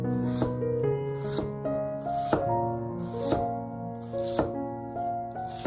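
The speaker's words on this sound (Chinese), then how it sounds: "再准备一个洋葱切成厚片" A knife chopping an onion into pieces on a board for egg fried rice, heard as a steady series of close, crisp cuts over background music.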